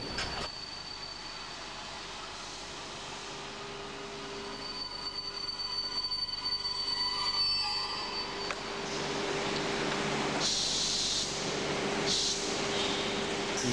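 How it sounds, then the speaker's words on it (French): A TGV high-speed train passes through a station in Lyon, its wheels giving a loud sustained high squeal that rises and fades over the rumble of the moving cars, with no talk. "Nous n'avons que des TGV qui s'arrêtent ou qui passent dans cette gare"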